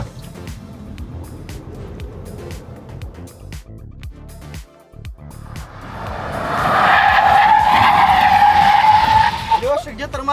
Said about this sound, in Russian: давайте замерим ускорение у электромобиля